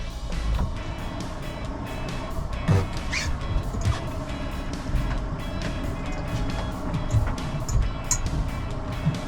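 A truck driving off after launching an offshore boat at a ramp, a steady engine drone with rumbling low end and passing vehicle noise throughout, fairly close and continuous.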